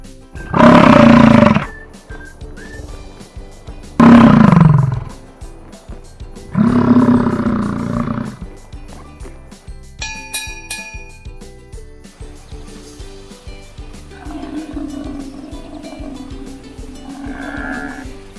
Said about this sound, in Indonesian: Bison,